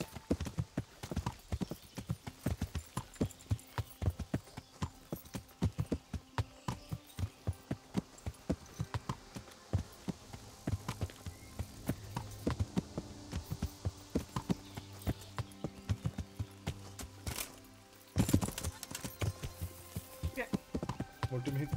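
Rapid clip-clop of horse hooves in the video game Kingdom Come: Deliverance, running steadily throughout, with game sounds and occasional speech mixed in.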